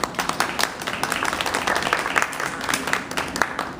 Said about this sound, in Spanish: le damos la bienvenida y con un aplauso a los caballeros que tenemos aquí esta mañana